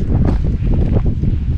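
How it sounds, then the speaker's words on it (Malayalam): Strong wind buffets the microphone at a holiday home in County Kerry, Ireland, a loud continuous low roar with gusty surges and no talk. "നല്ല കാറ്റുണ്ട് കേട്ടോ."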